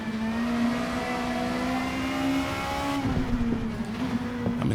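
A Vauxhall Vectra Super Touring race car in a racing game holds a loud, steady engine drone near the driver, then the pitch dips as the car brakes into a chicane before the revs climb again.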